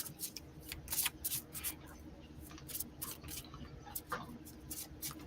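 Soft, close card shuffling, repeated papery riffles and slides in irregular bursts, quiet with no talking.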